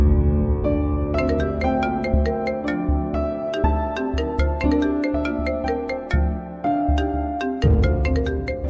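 A phone ringtone for an incoming call: a bright, repeating electronic melody over a steady low backing, looping continuously and clearly, with no voices over it.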